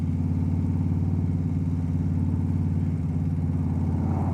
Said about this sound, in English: take some back roads and stretch the bike out a little bit